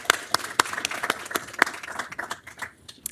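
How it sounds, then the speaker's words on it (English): Audience applause at a forum event, a scattered round of hand claps from a seated crowd, sharp individual claps standing out before thinning and tapering off toward the end. "So let's just give them a quick round of applause."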